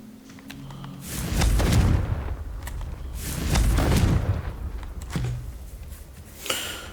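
Confringo fire spell blasts in Hogwarts Legacy, two loud booming explosions a couple of seconds apart, each with a rumbling tail, followed by a smaller burst and a sharp impact.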